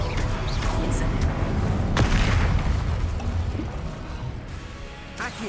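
An Incendio fire spell from Hogwarts Legacy erupts in a loud, roaring blast with crackling bursts, a sharp impact near the middle, then a slowly fading rumble.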